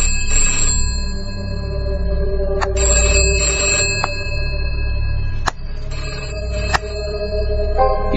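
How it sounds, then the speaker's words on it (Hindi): A telephone rings loudly in repeated bursts of bright trilling bells, with short pauses between rings. "ये फिर से घंटी बजी।"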